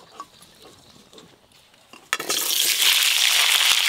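Potatoes drop into hot mustard oil in a pan, and after a quiet start a loud, close, steady hiss of frying bursts in and keeps going.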